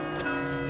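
Church bells ringing in a short burst, a dense sustained metallic tone with layered overtones, fairly loud and close with no talking.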